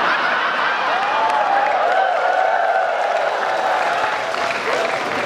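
Audience at a humorous Islamic religious lecture on New Year's in Korea breaking into steady applause mixed with chuckles and laughter, a dense continuous crowd sound throughout.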